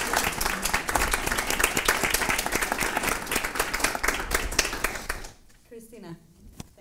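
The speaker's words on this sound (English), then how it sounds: "maybe we can give a round of applause for our dear panelists" Audience at a Geneva security debate applauds the panelists, a dense, loud wash of clapping lasting about five seconds before fading abruptly, with a voice beginning to speak in the quieter tail.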